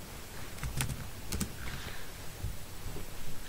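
An SQL command typed on a computer keyboard in Open Office Base, quick close key clicks in short clustered bursts over quiet room tone.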